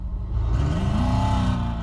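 A Nissan 350Z engine idles with a deep rumble, then revs up sharply into a rising, sustained roar, close and loud.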